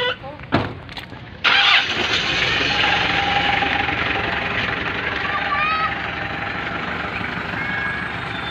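A Petrolub friction test machine starts up with a sharp transient, then settles into a steady, loud mechanical running drone with faint whines and a high tonal beep. It runs continuously to the end, and a voice briefly speaks near the start.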